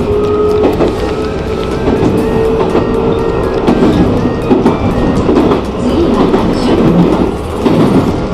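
A rapid train speeds through a station on the Nara Line, its wheels clattering loudly and continuously over the rail joints with a sustained rumble. No voices are heard.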